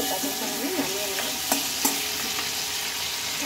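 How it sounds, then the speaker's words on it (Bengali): Food fries and is stirred in a pan while being browned for a mung dal and pointed gourd dish, a steady sizzle broken by a couple of sharp utensil scrapes, close and with no talking. "এখন এটা আমি ভেজে নেব ভালো করে"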